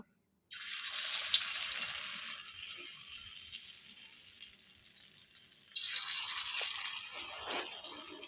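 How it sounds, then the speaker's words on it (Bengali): Potato fritters dropped into hot oil in a wok set off a sudden loud hiss that eases gradually, then flares up again as more batter goes in; nearby sizzling carries on with no talk. "তেল গরম হয়ে গেছে, এতে আমি বড়াগুলো দিয়ে দেব"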